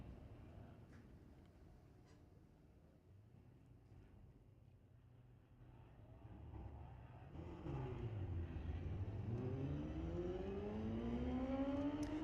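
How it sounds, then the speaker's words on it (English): A 1997 Suzuki GSX-R 600cc motorcycle drag racing at Mission Raceway Park, its engine rising from a distant hum to a louder, climbing whine as it accelerates down the strip, heard from afar with wind noise. "A 97 GSXR 600cc bike. Seemed to slow down at half track for some reason."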